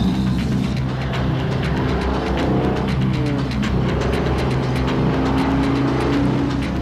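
Viper car engine driving fast during a chase, a steady loud motor drone with shifting tonal whine and road rumble, continuous throughout without speech.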